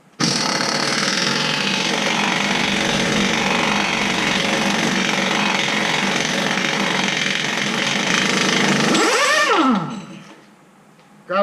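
Pneumatic hammering on a Chrysler 8.25 differential, a loud, continuous rapid rattle lasting about nine seconds before winding down with a falling whine and a brief quiet gap.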